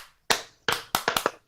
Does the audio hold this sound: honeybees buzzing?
no